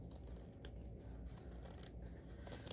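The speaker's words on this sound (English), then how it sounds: "Let me grab my scissors here, and we're going to cut this just right down the middle of this fold." Scissors cut through folded fabric for a small scrunchie, a faint, continuous run of snipping and slicing close by, with no talk.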